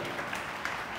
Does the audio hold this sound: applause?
yes